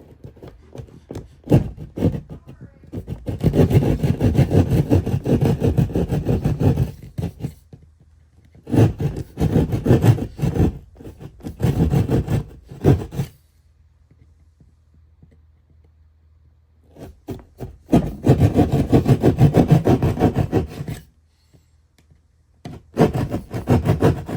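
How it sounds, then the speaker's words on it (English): A drywall saw cutting through a wall panel while running coax cable for a boat VHF radio antenna, with bursts of loud close rasping strokes broken by pauses. "so I'm just going to use drywall saw"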